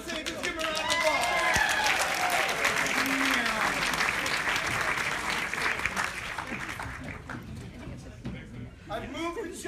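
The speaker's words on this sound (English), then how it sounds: "Come on up on stage. Let's give her a round of applause." Audience applause at a live magic show as a volunteer is called up on stage, a sustained wash of clapping from a crowd with voices and cheers mixed in, tapering off toward the end.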